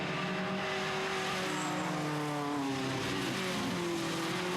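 TVR Challenge race cars accelerating through the Old Paddock right-hander at Castle Combe, a distant, faint engine note rising in pitch as the cars power away, heard over broad track ambience.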